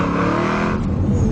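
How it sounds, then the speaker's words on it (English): A supercharged Vauxhall Monaro VXR 500 with an LS2 V8 roars through a burnout, its engine held at high revs in a loud, harsh, close blare. "it just does a dirty, big burnout on it"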